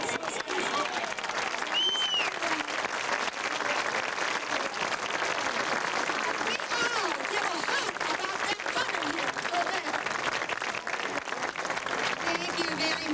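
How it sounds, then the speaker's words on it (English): A studio audience gives the contestants at a Gone With The Wind 50th anniversary event a long, loud round of applause, dense continuous clapping with scattered cheers and voices mixed in. "let's give them all a big round of applause again"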